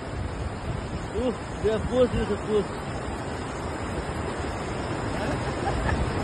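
A mountain river rushes with a steady broadband roar beside a trekking trail to Aama Yangri peak in Nepal. Voices talk briefly over the water near the middle.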